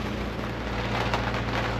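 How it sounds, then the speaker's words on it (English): Steady rain drums on a boat at Lock E19, a close, even hiss of drops on the surface with no voices, lasting only a brief moment. "Right now we're just going to wait out the rain."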